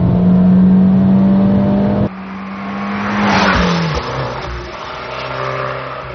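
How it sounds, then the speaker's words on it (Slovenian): A 2016 Abarth 595 Competizione engine hums loudly, then the tone drops as it downshifts in manual mode and revs up with a rising roar before settling, close and prominent. "Pa dam še v manual. Pa eno prestavo dol. Še eno prestavo dol."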